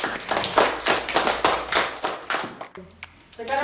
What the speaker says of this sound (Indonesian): Kalau gitu kita beri aplaus untuk kelompok auditori.